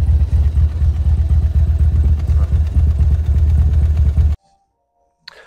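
A Morgan Three Wheeler engine idles up close with its cooling fan switched on, a loud steady throbbing rumble with light mechanical clatter that cuts off abruptly near the end.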